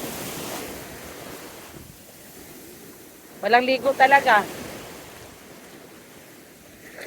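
Ocean waves surging and breaking at Puka Beach, Boracay, after rain, a steady windy roar of surf throughout, with a short burst of people talking near the middle.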